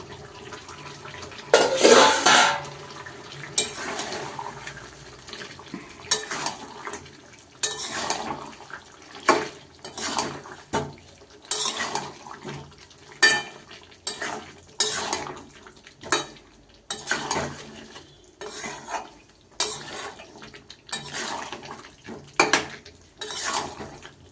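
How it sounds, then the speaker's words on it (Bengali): Meat and potatoes being sautéed in a pot, heard as repeated metallic scrapes and clanks of a utensil against the pot in an irregular rhythm, with a faint sizzle underneath, close by and with no talking. "মাংসটা কষানো হয়ে যাক,"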